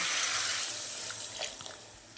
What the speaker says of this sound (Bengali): জল দিয়ে দিলাম ভালো করে আবারও নাড়িয়ে নেব